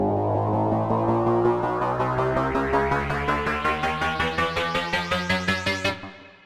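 An FM synthesizer plays a buzzy, metallic tone whose pitch and timbre shift. A pulsing rhythm set by the mod wheel grows faster and more distinct until it cuts off abruptly.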